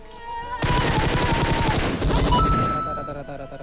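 Shotgun blasts in PUBG Mobile, heavy close shots stacked in a dense, loud burst of gunfire lasting a few seconds, with a voice speaking underneath.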